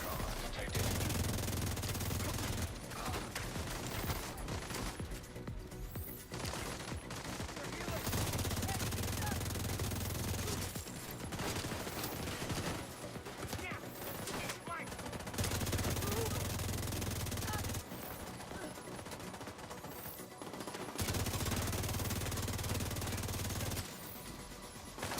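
Rapid gunfire in the video game The Division 2, dense sustained bursts of automatic shots repeating in long stretches with brief gaps, loud and continuous throughout.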